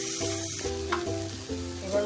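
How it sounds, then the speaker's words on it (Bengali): Spice paste with tomato and a spoon of sugar frying in oil for a Bengali tel begun (eggplant) dish, a close steady sizzle with stirring scrapes, no voices. "এবার মশলা ভাজা হয়ে গেছে,"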